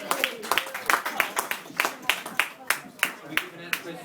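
Wedding guests at a party applaud with a lively round of clapping, dense overlapping hand claps in a steady pulsing rhythm, close and moderately loud, with voices talking under the applause.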